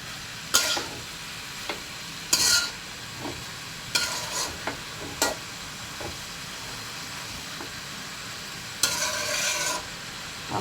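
Sardine fish and potatoes frying in a pan, a low continuous sizzle broken by several sharp scraping bursts of a spatula stirring, close by with no talking.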